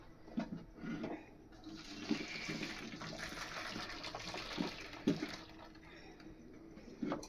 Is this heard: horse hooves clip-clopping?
no